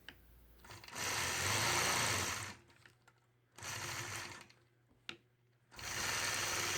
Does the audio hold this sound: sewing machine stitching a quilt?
yes